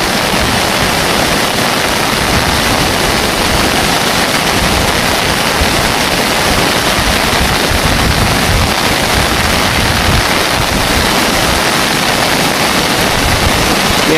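Floodwater from an overflowing river rushes past a bridge during heavy rains, a loud, steady broadband roar that fills the whole stretch without letup.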